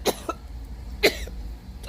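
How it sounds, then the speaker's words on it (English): A man recovering from COVID coughs in two short, sharp bursts about a second apart, close and fairly loud against a low background hum. "So excuse the coughing and all that."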